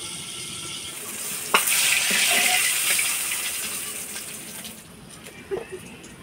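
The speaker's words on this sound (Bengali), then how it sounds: "তেলের মধ্যে দিছি গরম তেলে, দেখেন শক্ত হয়ে গেছে মাছটা" Ritha fish frying in hot oil for a home-cooked Bengali fish and potato curry: a bright, hissing sizzle swells after a soft knock, then slowly fades, with a few faint utensil clicks near the end.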